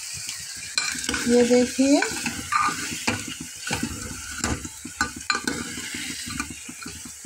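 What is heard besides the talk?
stirring chickpea and potato curry in a pan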